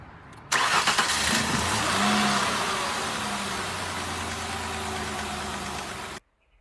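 A car engine cranks and catches after a Seafoam intake treatment, then settles into a steady, loud idle close by before cutting off abruptly.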